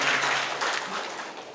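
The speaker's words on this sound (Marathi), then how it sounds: "त्यांना जोरदार टाळ्या द्यायला पाहिजे सरांसाठी" A book-lovers' gathering applauds an 85-year-old guest with steady, moderately loud clapping from many hands that eases slightly as it goes on.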